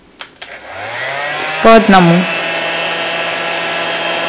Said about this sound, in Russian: Берем фен, я его уже включила.